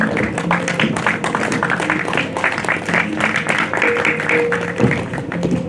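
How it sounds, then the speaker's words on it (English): Steady applause from a crowd, continuous clapping that holds at an even level throughout without pause. "Please, a round of applause for him."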